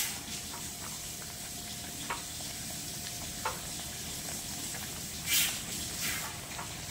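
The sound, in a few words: chicken chaap cooking on low heat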